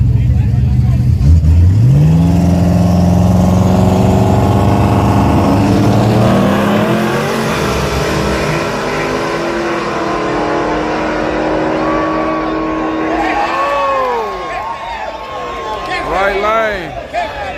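Street drag racing pits a nitrous car against a turbo car: loud engines rev and roar off the line, then pitch climbs and fades as they pull away down the track, with a crowd and excited voices talking over them.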